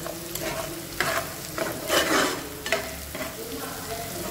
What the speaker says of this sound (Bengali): অনিয়নটা হালকা ব্রাউন হয়ে আসছে